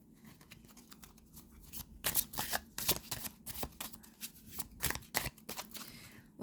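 Tarot cards being shuffled by hand, a run of crisp riffling flicks and slaps in irregular bursts, close and fairly quiet.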